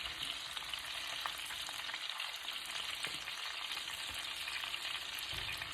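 Cabbage fries in butter in a pan, a quiet steady sizzle and crackle running continuously with no talk.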